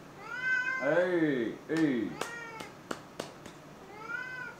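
A cat meows several times up close, with drawn-out calls followed by short, sharp ones, and a person briefly says a word.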